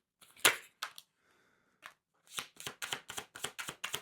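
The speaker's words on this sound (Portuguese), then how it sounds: "deixa eu pegar mais 3 cartas" Tarot cards drawn and laid from a deck: a few soft flicks and slaps, a short pause, then a quick run of crisp card snaps close by, with no talking.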